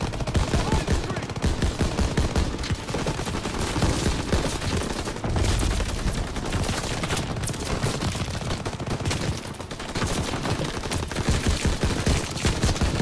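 Dense, continuous gunfire rattles through a WW2 video game battle set in the Battle of the Bulge, with overlapping machine-gun bursts and rifle shots filling the whole stretch at close range.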